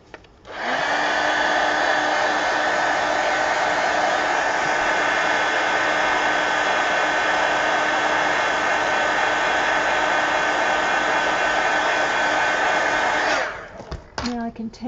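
A hair dryer blows on wet paint on an altered book page, switching on and running as a loud, steady whirring hum for about thirteen seconds before cutting off, followed by faint handling noises.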